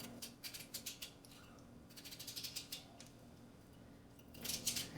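A knife cuts lengthwise through peeled potatoes for potato salad, giving a series of short, crisp clicking strokes in quick bursts, fairly faint, with no talk.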